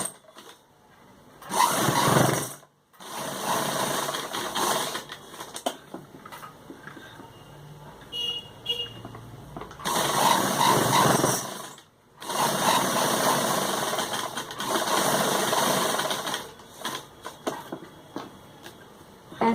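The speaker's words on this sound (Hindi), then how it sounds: "इसके चारों तरफ हमने एक पैर की सिलाई लगानी है, ये तीनों तरफ 1 2 और नीचे 3" A sewing machine runs a straight stitch around fabric for a designer suit neckline, in several loud bursts of a few seconds each, separated by short pauses, with no voices.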